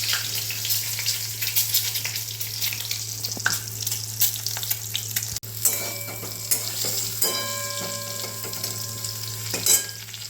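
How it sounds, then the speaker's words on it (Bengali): Pieces of pointed gourd, potato and soya chunks sizzle and crackle in oil in a frying pan, with occasional stirring scrapes over a steady low hum. "এক এক করে সব ভেজে নেব।"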